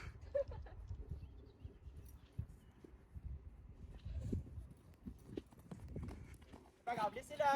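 Horse loose in an arena during liberty jumping training, hooves thudding in an uneven, faint rhythm while people talk over it.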